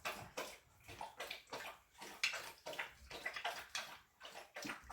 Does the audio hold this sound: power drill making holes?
no